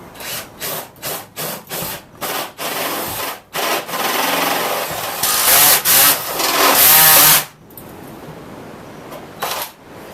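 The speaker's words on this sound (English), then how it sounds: "These step drills are an absolute godsend. It saves you looking for different sized drills all the time." A step drill bores through a metal panel on a Ford Transit van, giving repeated short grinding bursts followed by a longer, louder harsh cut, loud and close, then fading to quiet.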